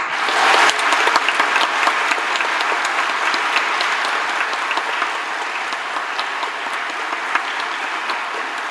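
A large audience at a high school graduation ceremony applauds with loud, dense, sustained clapping that eases slightly in intensity across the whole stretch.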